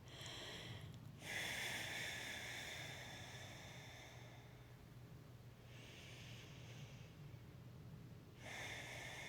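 A person breathes slowly during a gentle yoga session: long, airy inhales and exhales, faint and close, with quiet pauses between each breath.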